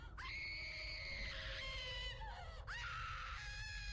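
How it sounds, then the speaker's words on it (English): Screaming voices in the RuneScape 3 video game, set in a burning home, wail loudly and continuously, long anguished cries rising and falling, one fading then a new scream starting near the end. "Oh God, the screams."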